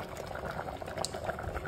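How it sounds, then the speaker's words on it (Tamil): Water poured in a home kitchen while cooking with a ground paste, a continuous close bubbling, splashing stream lasting the whole moment. "தண்ணி ஊற்றி"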